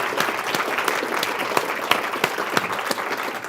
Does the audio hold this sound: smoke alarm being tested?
no